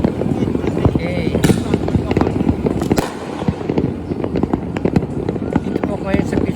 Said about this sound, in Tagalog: Dito kasi makita lahat ang fireworks.